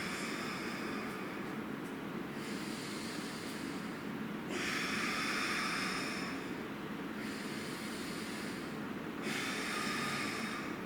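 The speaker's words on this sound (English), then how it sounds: "Exhale." Slow, deep breaths during a breathing exercise, long airy exhales and inhales alternating at a steady pace, close and soft with no talking.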